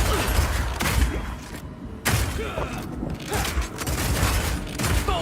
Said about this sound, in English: your Power Shot hits a weak spot and does a huge amount of single target damage